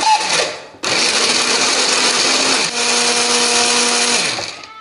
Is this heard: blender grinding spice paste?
yes